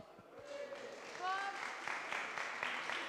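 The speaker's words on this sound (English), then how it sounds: "So you can give them a little round of applause." Audience at a barista championship semi-final offers brief, light applause, a modest patter of clapping under background chatter and a voice, rising slightly in the second half.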